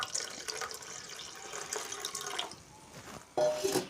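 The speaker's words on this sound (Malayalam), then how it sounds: "വെട്ടിത്തിളയ്ക്കുന്ന ചൂടുവെള്ളം ഈ ബൗളിലേക്ക് ഒഴിക്കുക." Boiling hot water is poured into a bowl for cleaning rolled-gold jewellery at home, a close, bright splashing stream that eases off, then a short louder splash near the end.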